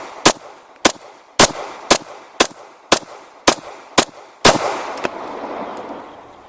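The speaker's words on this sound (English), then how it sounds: "This time I am shooting the Canik P120 still at 7 yards" Canik TP120 pistol fired slowly at a 7-yard target: nine sharp, loud shots spaced evenly about half a second apart, each with a short ringing tail, the last followed by a faint metallic ring.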